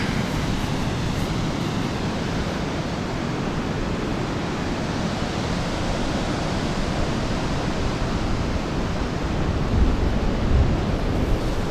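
Steady, broadband surf roars on the beach at St Ives in Cornwall, a continuous wash of breaking waves with possible wind buffeting and no voices.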